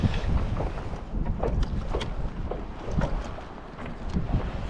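Wind gusting across an outdoor mic, a broad rushing roar that swells and eases steadily throughout, loud and close with buffeting low rumble.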